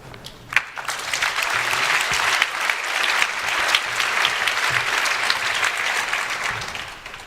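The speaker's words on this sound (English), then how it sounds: "Let's have a big round of applause for those speakers." A conference audience at the GreenBiz 24 keynote gives loud, sustained applause for the speakers, a dense wash of hands clapping that holds strong for several seconds after a sharp start.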